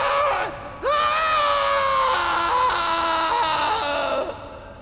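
An enemy in Prince of Persia: The Sands of Time lets out a long, loud, wavering scream that holds for several seconds, pitch sliding and breaking before it fades out.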